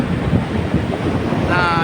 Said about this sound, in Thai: แรงลมจะแรงช่วงนี้